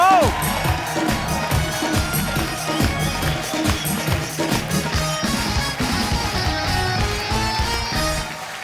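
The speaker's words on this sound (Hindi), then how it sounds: "आप सबकी जोरदार तालियों के बीच please welcome mister Sunil Paul" A studio audience at a comedy talk show cheers and shouts loudly as a guest is welcomed, a dense crowd roar that stays strong for several seconds before easing slightly, with voices and music mixed in.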